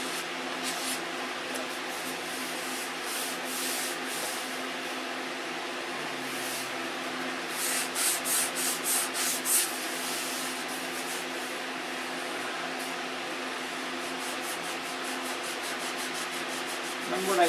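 Hand sanding of a model airplane, a steady close scraping rub that runs throughout, with a short burst of quicker strokes near the middle.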